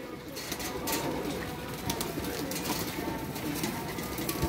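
Pigeons kept by a breeder coo softly and repeatedly at close range, a low throaty murmur running throughout over a hissy background.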